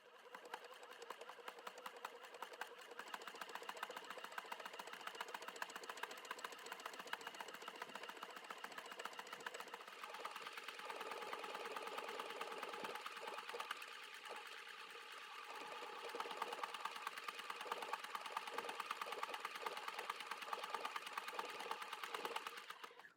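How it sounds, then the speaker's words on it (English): A domestic sewing machine stitches a buttonhole on an elastic waistband garment, running steadily and close for the whole stretch, its rapid needle chatter shifting slightly in pace partway through, with no talking. "So go ahead and sew that buttonhole on, and then we'll come back."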